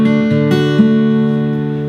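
Guitar fingerpicked through a chord from a song, a few plucked notes ringing and sustaining together, close and clear.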